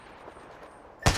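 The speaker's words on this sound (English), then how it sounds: "Taking my last Kraber shots and then I'm picking up the bow" A single loud, sharp Kraber sniper rifle shot in a video game rings out near the end, following a stretch of quiet, low background ambience.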